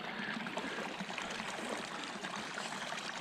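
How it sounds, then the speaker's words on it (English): Atherton Creek water flowing at a campground, a steady close rushing and trickling over rocks with no break. "I can hear the water"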